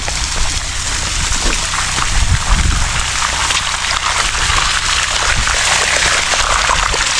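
Steady water flows and pours continuously for bathing outdoors beside a fishpond, a loud broadband rush with faint splashing and no clear break throughout.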